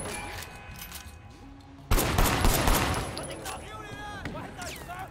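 Rapid gunfire in the open-world action game Sleeping Dogs, a burst of shots that swells loudly about two seconds in and continues in a dense fusillade alongside game sound effects.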